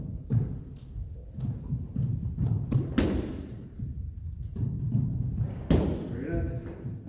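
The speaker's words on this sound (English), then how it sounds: "kick the bag. And this time the bag will be a little higher." Karate kicks striking a raised kick bag during Shotokan practice, heard as a series of dull thuds and sharp taps, with a few louder impacts standing out over steady background noise and voices in the room.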